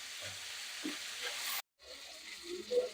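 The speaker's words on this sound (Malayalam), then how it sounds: "അതിലോട്ട് റൈസ് ഇട്ട് കൊടുക്കുക. റൈസ് ഒന്ന് മൂപ്പിച്ചെടുക്കുക." Rice sizzles and fries in a hot pan with crushed ginger, garlic and green chilli, a steady close crackling hiss that cuts out briefly, then resumes.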